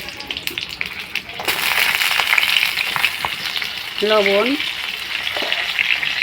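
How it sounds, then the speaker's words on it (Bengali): Cut pointed gourd (potol) sizzles in hot white oil, a steady broad hiss with stirring, swelling louder after the first second and a half, while someone talks over the frying. "কেটে রাখা পটলগুলো দিয়ে দেবো।"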